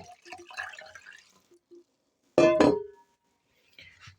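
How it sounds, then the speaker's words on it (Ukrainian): Potato cooking broth pours into a measuring jug in one short burst of liquid splashing, close and fairly loud, between quieter moments of talk. "Мені потрібно ж його відміряти, скільки тут у нас буде відвару картопляного"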